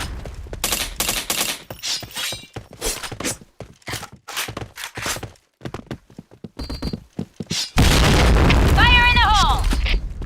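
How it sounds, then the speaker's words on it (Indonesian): Rapid gunfire cracks in a first-person shooter game end in a loud, sustained bomb blast, while players talk over the action. "Wah, kena bom dong."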